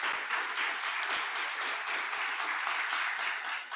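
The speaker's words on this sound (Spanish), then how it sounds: "Dale un aplauso al Señor si tú has tomado esa decisión" A church congregation applauds together in a steady, dense wash of many hands clapping, heard at moderate distance in a reverberant hall, with no voices above it.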